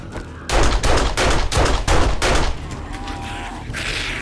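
Heavy gunfire in the 7 Days to Die video game pounds out in five loud, rapid bursts up close, then drops to a dull rumble with a faint whirring tail.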